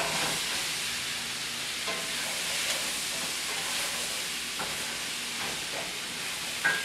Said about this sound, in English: Now my onions now need a little bit of olive oil.